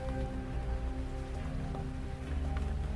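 Steady rain falls on a surface on a rainy night, a close, continuous patter of drops that stays even throughout.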